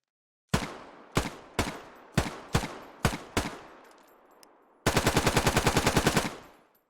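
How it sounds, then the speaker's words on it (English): G3 rifle fire in the video game Squad: six separate loud single shots with ringing decay, then a fast, sustained automatic burst of about a dozen rounds, with no talk. "We also have new G3 sounds"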